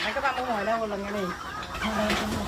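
Native country chickens on a farm cluck close by in repeated throaty calls, with a person talking at the same time.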